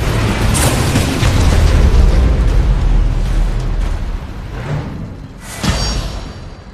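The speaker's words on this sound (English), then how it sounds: "Nuclear missile launched." A nuclear missile detonates in a real-time strategy video game, a heavy sustained booming rumble that swells and fades, followed by a sharper secondary blast near the end.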